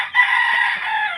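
A red Kelso gamecock rooster crows in one sustained, loud, close call that carries on without a break and with no talk over it.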